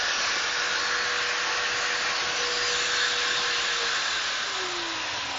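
An Alloyman electric drywall sander runs steadily on sheetrock, a loud, even motor whir with broad airy noise that holds constant throughout, with no talking.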